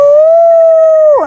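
A dog gives one sustained, loud, steady howl at close range, holding a pure pitch for over a second before sliding down and breaking off at the end.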